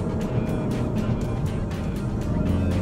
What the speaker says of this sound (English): Listen to that fake engine noise.